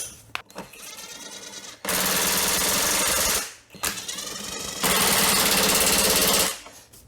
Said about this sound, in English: I shouldn't take an impact to do this